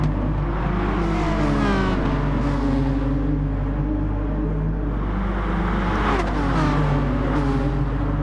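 Race cars roar down the Monza straight in a multi-car pack, engines revving steadily and overlapping at close range, with one car surging past near the end over continuous loud engine drone.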